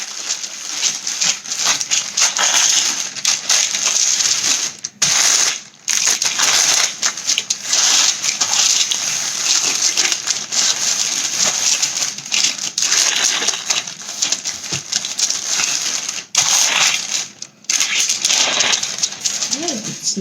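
A warm granola bar mixture is pressed flat under a sheet of parchment paper, giving a steady, close crinkling and crunching with short pauses between pushes.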